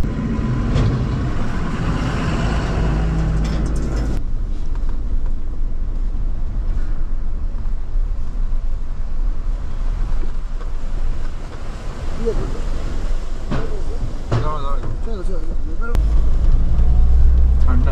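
A Mahindra Thar 4x4 drives on a sandy riverbed in Ladakh, giving a steady in-cabin engine drone and rumbling tyre noise that continues throughout with wind buffeting and someone talking over it.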